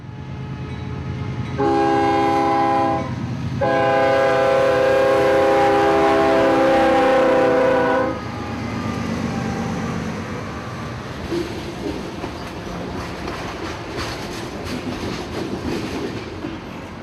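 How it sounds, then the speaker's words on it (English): Tropicana juice freight train Q740 sounds a loud multi-tone horn in two blasts, a short one then a long sustained one, followed by the rumble and clickety-clack of rail cars rolling past near the Yelvington switcher. "we quickly see the unmistakable profile of the Tropicana juice train, Q740."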